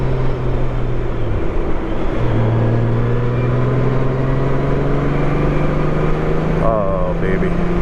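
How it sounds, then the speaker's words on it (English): A motorcycle engine accelerates with a loud, steady drone whose pitch climbs gradually as it pulls harder, heard up close and alone. "Here, we'll listen to the bike accelerate for a second."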